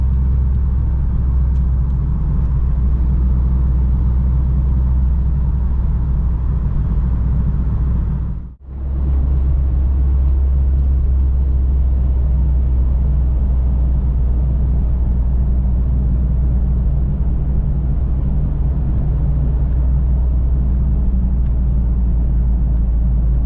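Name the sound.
1992 Vauxhall Cavalier CD driving on a long-distance run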